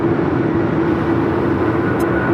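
An American Airlines Boeing 777 takes off from LAX runway 25 right, a loud, steady broadband roar with a droning tone, continuous and alone for about two seconds.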